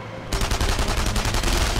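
Rapid bursts of gunfire from the World War II shooter game Enemy Front erupt after a brief quiet moment and continue as a loud, dense, sustained volley of repeated shots.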